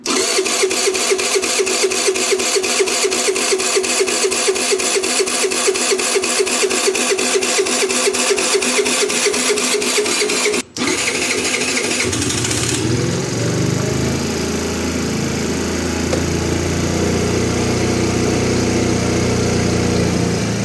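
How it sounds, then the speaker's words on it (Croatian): A Chinese scooter engine, freshly repaired, cranks with a rapid rhythmic starter chatter for about ten seconds, then catches and settles into a loud steady idle close by, with no talking. "Evo ga ekipa, motor je upalio"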